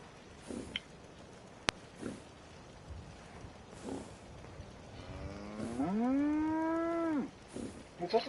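A cow in the video game Fallout 4 lets out a single long, loud moo lasting over a second, preceded by quiet ambient game sounds and a few soft thumps.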